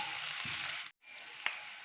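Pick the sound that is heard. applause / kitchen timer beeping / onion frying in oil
onion frying in oil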